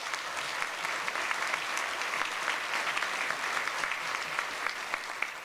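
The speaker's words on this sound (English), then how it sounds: "So a round of applause for them." Audience at a chamber of commerce federal election candidates forum applauding the candidates, a continuous crowd of clapping hands with scattered sharper claps, steady and moderately loud throughout.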